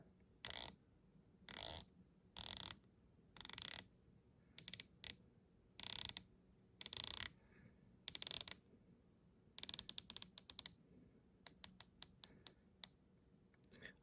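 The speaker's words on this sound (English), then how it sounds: "So the team at Twelf-X did a nice job with the turn action on the bezel." The bezel of a Twelf-X 1914 Auto Flyer watch is turned, giving bursts of crisp ratcheting clicks close up, some sustained and some single, separated by silent pauses.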